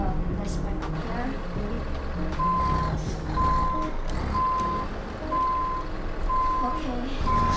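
In American Truck Simulator, a truck's reversing alarm beeps at a steady, even pace while the engine rumbles underneath. Someone talks over it.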